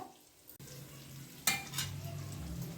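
Sliced bitter gourd fries in a pan for a spicy curry, with a low steady sizzle that jumps into a louder crackling burst as the pieces are stirred around, with no talking.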